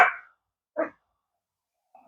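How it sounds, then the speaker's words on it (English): Neighbor's dogs bark from nearby in two or three short, separate woofs, the first loudest, the last faint, with quiet gaps between. "These dogs, man, they always bark."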